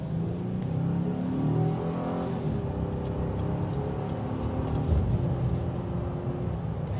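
A 2022 Honda Ridgeline HPD pickup accelerates, its engine note climbing steadily in pitch and revving up over several seconds, heard from inside the cab with road noise beneath.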